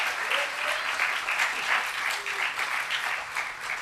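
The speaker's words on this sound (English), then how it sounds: "I think that you should give them the round of applause for the support" Sustained applause from a graduation audience, steady dense clapping that fills the whole moment without pause, fairly close and even in loudness.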